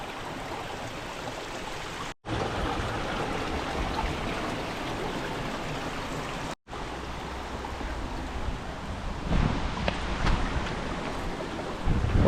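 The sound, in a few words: stream of water flowing downhill on a mountain hike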